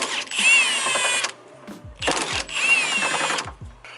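A power tool or impact driver loosens the 13mm bolt on top of a BMW Z4 shock during a suspension upgrade, with two loud, close whirring bursts of about a second each separated by a short pause.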